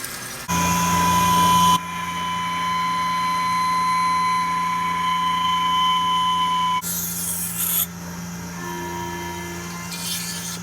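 A machine takes light cuts on a metal flange plate for a Porsche part, giving a steady mechanical hum with a thin whine, its level stepping down and shifting a few times along the way.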